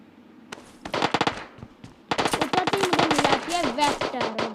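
Vector submachine gun fire in the PUBG Mobile video game, rapid bursts of sharp shots in quick rhythmic strings, a short burst then a longer sustained volley, loud and close with no speech.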